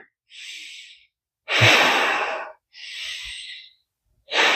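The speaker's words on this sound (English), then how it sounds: "And now can I breathe?" Slow deep belly breaths while bracing the core: long airy inhales and exhales in a steady rhythm, close and fairly loud, with no talking.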